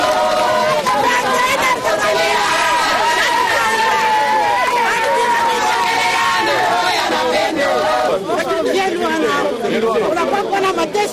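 A dense crowd in an electoral procession through city streets clamours continuously, with overlapping shouts, chanting and excited voices close by throughout.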